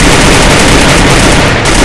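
Gunfire in a shooter video game, a dense, very loud burst of rapid automatic shots saturating the whole short stretch with no pause.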